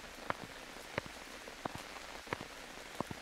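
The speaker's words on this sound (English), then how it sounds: "Despite the dark clouds and downpour in her light's way." A heavy rain downpour: a steady, dense hiss of falling rain, with distinct droplets striking a surface at irregular intervals. No voices are heard.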